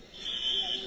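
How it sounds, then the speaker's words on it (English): A fire alarm sounds inside a Walmart store in Renton, a steady high-pitched electronic tone that carries through the space. "I know that sound. That's a fire alarm."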